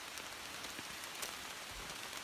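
Steady rain falls on a muddy mountain trail on the way down Stiles Peak, a dense, even patter of drops heard up close throughout, with no talking.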